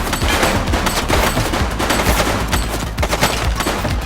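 Rapid bursts of gunfire ring out in a police shooter game, dense and loud, with overlapping shots rattling continuously for several seconds and no voices.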